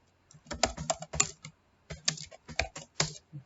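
Someone types an SQL query on a computer keyboard in close, crisp bursts of keystrokes separated by short pauses, with no talking.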